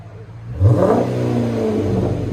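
Chrysler 300 with a 5.7L Hemi V8 and Magnaflow Magnapack exhaust, rear delete and 4-inch tips, revving up from a low idle rumble into a loud, sustained throaty roar nearby, no talking.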